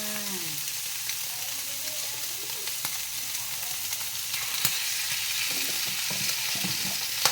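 Minced pork stir-fried in a pan with seasoning powder, sugar and oyster sauce, before pickled bamboo shoots go in; a soft, continuous sizzle with scraping stir strokes and a few sharp spatula knocks.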